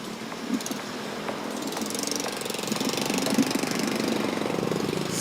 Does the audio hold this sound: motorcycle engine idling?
yes